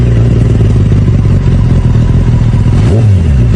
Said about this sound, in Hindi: सो ये साउंड सुनिए आपकी एक्रोपोविक की ZX 10R में।